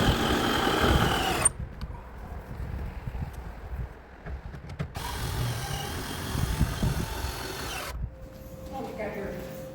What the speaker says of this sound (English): that's so fast with the drill